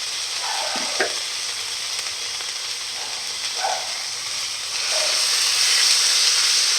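Minced meat frying in a hot pan for chicken, potato and chickpea fritters, a steady loud sizzle with a few scraping stirs of a spatula, growing slightly louder toward the end, no voices.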